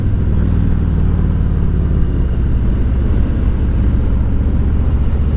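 Harley-Davidson Road King motorcycle engine rumbling steadily at low revs while leaning through a curve, with a deep, continuous throttle-held drone close to the rider and no talk.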